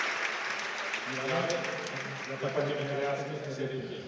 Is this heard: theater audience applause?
yes